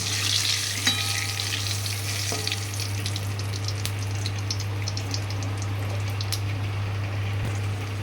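Oil and whole-spice tempering sizzling in a hot kadai, a steady close frying hiss with scattered light crackles and pops over a constant low hum.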